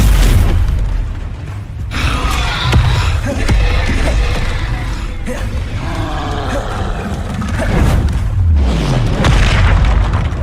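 Combat spells in Hogwarts Legacy, including Stupefy, crack and boom in repeated heavy blasts with rumbling, mechanical impacts, loud and close, in a dense run of overlapping hits.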